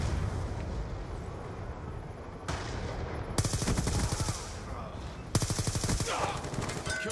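Video game shooter gunfire plays in bursts of rapid automatic fire. Dense rattling stretches are separated by brief pauses, heard up close over a low background rumble.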